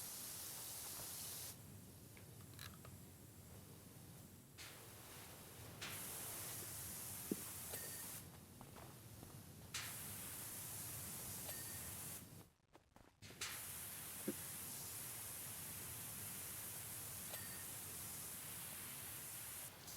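Pressure washer jets hissing in the video game PowerWash Simulator, broad spray noise starting and stopping in long bursts with short gaps and a brief cut midway.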